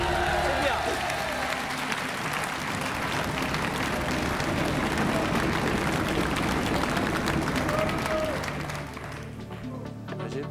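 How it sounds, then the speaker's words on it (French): A TV game-show studio audience claps and cheers in a loud, dense burst lasting several seconds before it drops off, with voices faintly mixed in beneath the applause. "Mais 100 euros, tout le monde applaudit."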